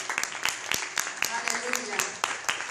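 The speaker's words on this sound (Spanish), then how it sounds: "Él merece un fuerte aplauso." A church congregation claps during a worship service, sharp hand claps landing in a quick, regular rhythm several times a second, with voices and background sound running beneath them.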